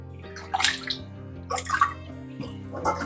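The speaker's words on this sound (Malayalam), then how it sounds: "അപ്പൊ ഇനി ഒരു പ്രാവശ്യം കൂടി വെള്ളത്തിലിട്ടൊന്ന് കഴുകിയാൽ മതി." Chicken pieces are washed by hand in a vessel of water, with irregular sloshing and splashing bursts separated by quieter moments.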